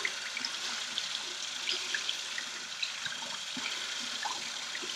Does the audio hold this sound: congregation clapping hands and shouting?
no